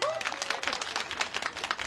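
A small studio audience at a Japanese radio show claps in a brief, dense patter of applause lasting under two seconds. A faint voice sits beneath it.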